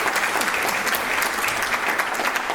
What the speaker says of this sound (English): So I think that's a big round of applause.